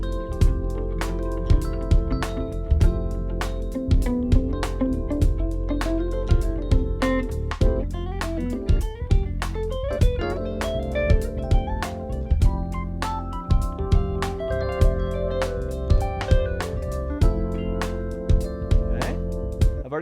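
A guitar plays through an F Lydian mode scale, picking note after note in an even rhythm over sustained harmonic tones. It sounds close and fairly loud, with no voice over it.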